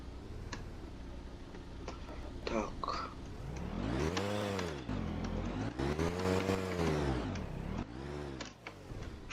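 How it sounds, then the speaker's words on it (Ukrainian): A small VAZ-1111 Oka car engine revs up and down in several sweeping surges, rising and falling in pitch, with faint ticking and quiet background noise. "Щось я занадто газанув."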